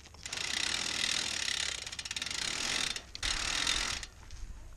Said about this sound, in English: you basically clamp the chain in like this and you rotate it back